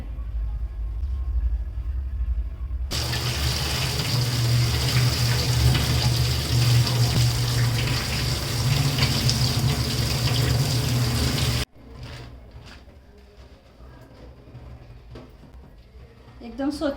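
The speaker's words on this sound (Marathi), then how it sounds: "स्वच्छ पाण्याने चांगली धुवून घ्यायची" Clean water runs hard from a kitchen tap to wash something for a dish, a loud, steady gush for about nine seconds that then cuts off, leaving quieter room sounds.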